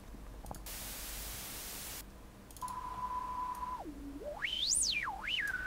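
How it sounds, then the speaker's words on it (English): A burst of hissing white noise in Unreal Engine 4 is followed by a resonant, bandpass-filtered synth tone that holds steady, drops, then sweeps up and down in pitch. "It spawns white noise and then filters it."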